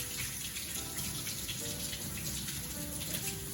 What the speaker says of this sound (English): then simply rinse it off